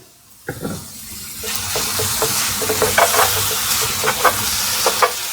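Cheesesteak filling stirred in a sizzling pan, a continuous close fry with repeated scraping strokes and clinks of the utensil against the pan.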